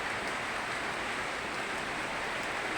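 Steady rain falling, a continuous, even hiss of drops on surfaces with no breaks, fairly close and filling the whole moment on its own.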